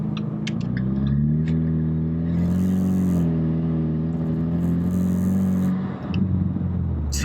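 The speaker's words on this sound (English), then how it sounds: "turbo kicking in" A turbo four-cylinder Ford Mustang engine pulls steadily under acceleration, a low droning hum with a faint whooshing turbo hiss on top, close and continuous for several seconds.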